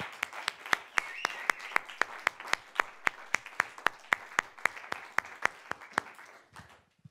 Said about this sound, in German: Dein Applaus, Lena, nochmal an dieser Stelle für diese tollen Filme.